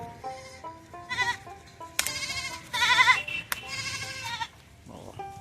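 A goat bleats repeatedly, several loud wavering cries in quick succession, close by, with a quieter higher-pitched call at the end.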